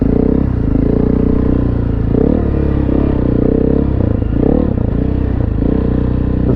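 A Honda CRF300L Rally motorcycle idles and putters slowly through a flooded creek, its steady low engine drone mixed with splashing and clattering, loud and close throughout with no talking.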